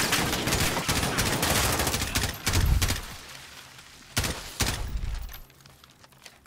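Dense, sustained gunfire from the video game Modern Warfare campaign, a rapid automatic barrage that fills the first few seconds, then separate heavy bursts around the middle and later, tapering off into quieter rumble at the end.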